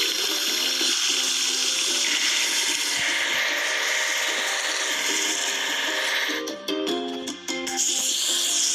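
Steady rushing water sprays against a cement mixer with scraping, rubbing noises, then some rattling clatter near the end; it has a synthetic, game-like quality.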